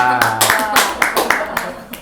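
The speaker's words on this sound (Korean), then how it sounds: "박수 해주세요." A church congregation gives a brief round of claps, a few distinct bursts of hand claps close by in a small room, with voices talking over and between them.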